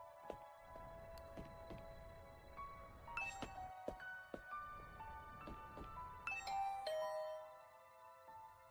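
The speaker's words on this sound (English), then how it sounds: "I rang the doorbell and could hear the bell ring on the other side of the door." Chiming doorbell rings inside the video game The Hundred Line, a series of bright bell tones and dings that overlap and ring out, fairly faint against quiet background.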